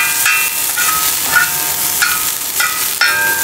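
Chepa shutki, dried fish, dry-frying in a pan with no oil, giving a steady close sizzle and hiss with light scraping stir sounds at regular intervals, no voices.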